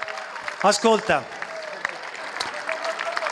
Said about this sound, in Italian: Fate un grande applauso.